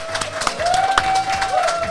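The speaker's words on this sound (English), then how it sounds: "Clap it up." Spectators at a 2K basketball tournament clap and cheer in a scattered burst of applause, with voices mixed in.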